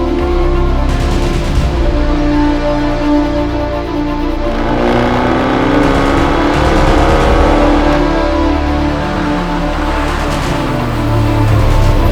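A Fiat 500 Abarth engine runs loudly and steadily while driving, with continuous revving and a throaty hum throughout, up close and without any talking.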